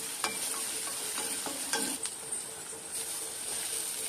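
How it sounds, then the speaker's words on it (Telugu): Ginger garlic paste frying in a pan over lightly golden onions for a cauliflower curry, a steady sizzle broken by repeated scraping strokes and clinks of a spoon against the pan. "లైట్ గోల్డెన్ కలర్ వచ్చిన తర్వాత ఇప్పుడు ఇందులో అల్లం వెల్లుల్లి పేస్ట్ వేసుకోండి"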